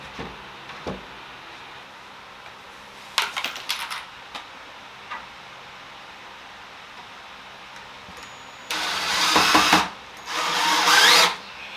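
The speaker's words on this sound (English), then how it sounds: "now I'm going to screw everything down into the base" Power drill driving screws into the base of a homemade kitchen island, two loud sustained bursts near the end after a few short clicks and taps, with no talking.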